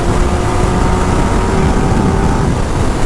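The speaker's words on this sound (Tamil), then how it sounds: "மீடியம் பவர் மோட்லேயே எப்படி இருக்குது பார்த்தீங்களா கைஸ் வண்டி" Kawasaki ZX10R motorcycle ridden in medium power mode, a loud, steady engine drone with wind rush, continuous and close for a few seconds.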